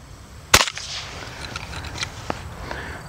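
A rifle fires a single sharp shot of .22 Federal Punch ammunition, a loud close crack followed by faint outdoor ambience and a few small clicks as the action cycles.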